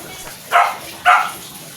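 A dog barks twice, two short sharp barks about half a second apart, close by over quiet background.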